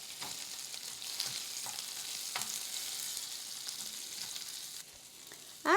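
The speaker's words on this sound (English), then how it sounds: "Now add the sliced onions and saute them well." Sliced onions sauté in butter in a pan on a stove over medium-low heat, giving a continuous soft sizzle with faint stirring scrapes, then a sudden loud clatter at the very end.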